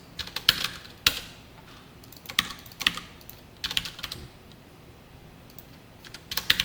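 Computer keyboard typing during Java coding of a text board program: irregular bursts of close, crisp key clicks with short pauses between them, no voices.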